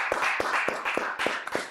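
A single person clapping hands at a steady, even rhythm, about eight sharp claps close by, with no other sound around them.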